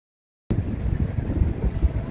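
Wind buffeting a microphone at a Niagara Falls overlook during a bike tour, a low rumbling gusty roar that starts abruptly and continues steadily without speech.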